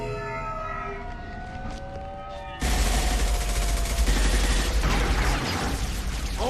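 A siren wails in the Mass Effect 2 video game, then heavy gunfire bursts in abruptly and keeps going loud and continuous, with no talk.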